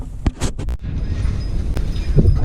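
Strong outdoor wind gusts against the microphone while a 3rd-gen 6.7 Cummins pickup's flywheel is being worked on, giving a continuous low rumble broken by a few sharp metallic clanks and knocks.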